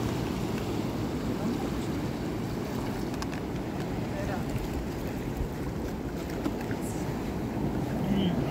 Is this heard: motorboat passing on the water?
yes